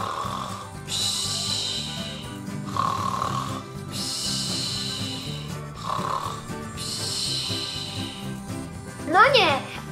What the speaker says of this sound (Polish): Nigdy wcześniej go tak nie słyszałam, żeby tak strasznie głośno chrapał!